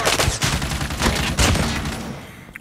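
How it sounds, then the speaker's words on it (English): Rapid automatic gunfire rattles out in the Call of Duty Mobile game, a loud, dense burst of shots with a heavier blast near the middle before trailing off. "Shooting."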